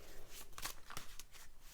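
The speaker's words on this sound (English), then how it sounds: "let me just do a couple more shuffles for you" Tarot cards being shuffled by hand close by: a few quick, papery riffling bursts in an uneven rhythm, with no talking.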